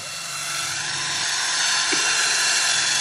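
A Milwaukee power drill runs steadily on a Jeep being scrapped, a loud close high-pitched whine that rises slightly in pitch and holds without a break.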